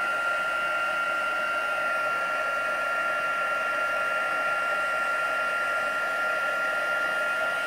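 A craft heat tool blows a continuous, even whir while melting craft material, a steady airy hiss with no talk over it.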